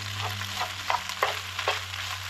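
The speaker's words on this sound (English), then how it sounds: "So I got a little bit of olive oil in there, and I'm just going to crisp up the pasta" Pasta crisping in olive oil in a wide frying pan, a close, continuous sizzle with a few sharp spatula scrapes at irregular intervals and a low hum beneath.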